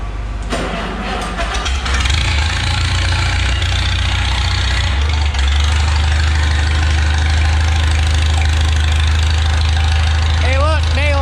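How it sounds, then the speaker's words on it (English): A tractor engine idles steadily and loudly throughout, a low rumbling drone with some knocking texture, and a brief voice-like tone near the end. "there's a tractor here somewhere"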